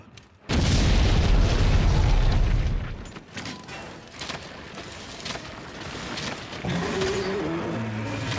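Bombs explode in Monster Hunter World during a fight with Nergigante, a huge close blast rumbling for a couple of seconds, then scattered smaller bursts and impacts over game noise.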